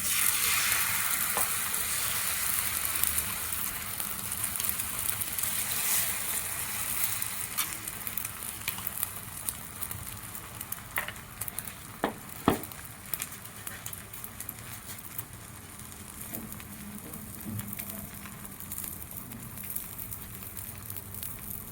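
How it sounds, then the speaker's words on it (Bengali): A beaten egg mixture hisses and sizzles in hot oil on a tawa, with soft scraping and scattered pops, a voice talking quietly over the steady frying. "তেলটা আমার গরম হয়ে গিয়েছে, এখন দিয়ে দেব এই যে ডিমটা, যেটা আমি মিক্স করে রেখেছিলাম।"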